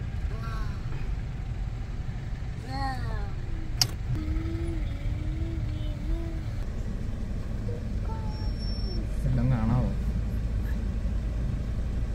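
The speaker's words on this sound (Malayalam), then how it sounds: "നമ്മുടെ വണ്ടി നീങ്ങി തുടങ്ങി, മിക്കവാറും ഫെറിയയിലോട്ടായിരിക്കും ഇപ്പം" A car rolls slowly forward while boarding a ferry in Melbourne, Australia, with a low steady engine rumble and other vehicle noise around it; voices talk intermittently over the sound.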